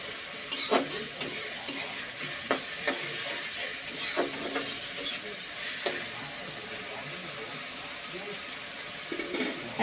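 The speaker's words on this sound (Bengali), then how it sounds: "পেঁয়াজটা একটু নেড়ে নেব হালকা" Sliced onions sizzle steadily in a pan while a spoon scrapes and stirs them in irregular bursts, cooking the base for a home-style potato and meat curry; a voice murmurs faintly underneath.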